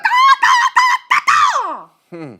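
A man imitates a bird call, giving a run of loud, honking, goose-like squawks in short bursts, then a brief lower cry after a pause.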